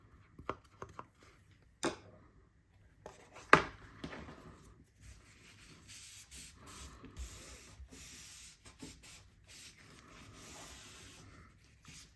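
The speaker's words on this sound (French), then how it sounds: "mon petit coup d'ongle pour être sûr de ne pas avoir de petites choses qui se plient pas comme je veux" Paper being creased and smoothed with a fingernail while folding a handmade birth box, giving close, dry scraping and rubbing strokes with a few sharp taps and crinkles, no voices.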